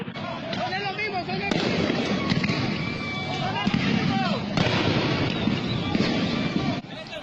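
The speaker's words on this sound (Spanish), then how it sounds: "El tiroteo era entre ellos mismos." Gunfire breaks out during an ambush on a political march in Nicaragua, a dense, continuous clatter of shots and bangs with crowd noise and shouting beneath, loud and sustained throughout.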